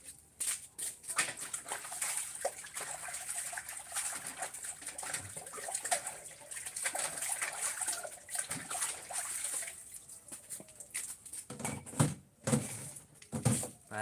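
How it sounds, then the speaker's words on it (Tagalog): Dishes being washed by hand, with running water, a steady splashing flow and scattered clinks and knocks of plates close by, and no talking. "hugas plato guys"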